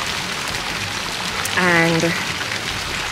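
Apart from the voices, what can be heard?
heavy rain pouring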